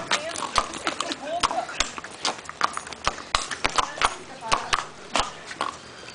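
A ridden horse's hooves clip-clop in an uneven trotting rhythm, close and distinct, while excited voices shout and urge the horse on.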